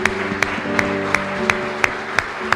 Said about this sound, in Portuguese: Vamos aplaudir aí.